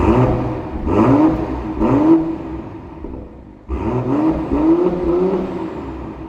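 A 2026 BMW M340i xDrive with the factory M Performance exhaust revs while parked and warmed up, two quick rising blips followed by a pause and a longer rev, loud and close with no talk.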